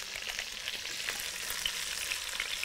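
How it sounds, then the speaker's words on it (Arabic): Butter melting and sizzling in a pan as the base for a roux, a steady bright hiss of frying with light crackles running throughout, close and even, with no one speaking. "سيح الزبده"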